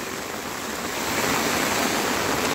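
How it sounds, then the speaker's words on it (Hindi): Dense, steady roar of heavy village rain drumming on an umbrella close by, a continuous hiss that swells slightly and never lets up. "छाते में कितनी ज़ोरों से लगी हुई है, बहुत ही खतरनाक भयंकर बारिश हो रही है"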